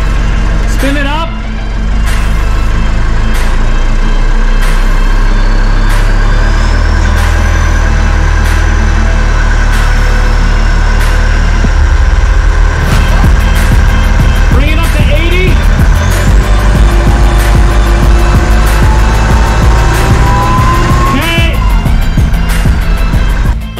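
Vehicle idling with its drive shaft spinning and wobbling, a steady loud low engine rumble with rattles and whirring throughout, while someone talks over it.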